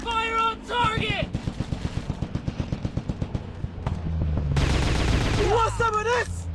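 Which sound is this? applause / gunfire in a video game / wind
gunfire in a video game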